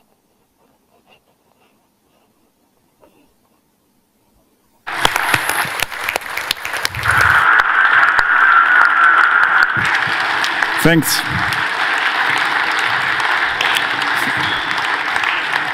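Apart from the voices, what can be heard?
audience applause after talk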